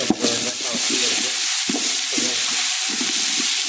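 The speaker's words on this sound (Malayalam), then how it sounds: "ഇതിൽ ചെമ്പിൽ ഉള്ളിട്ടിട്ടുണ്ട്" Onions frying in oil in a copper pot, a continuous bright sizzle at close range with low stirring scrapes recurring throughout, no talking.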